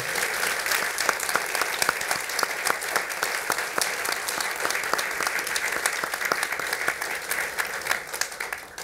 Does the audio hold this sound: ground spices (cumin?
no